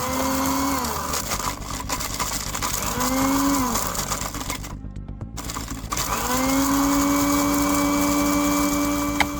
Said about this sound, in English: grind the dry peels into a fine powder using a blender